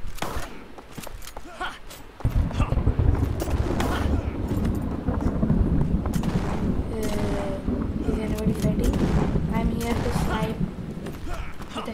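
Shotgun fire in the video game venge.io: several sharp, loud blasts scattered through a constant rushing game-sound background, with a person talking over them.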